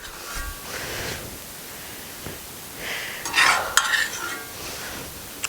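Steak cooking with butter on a Blackstone flat-top griddle, a soft sizzle with scraping and clinking of a utensil, louder bursts of crackle toward the middle, no speech.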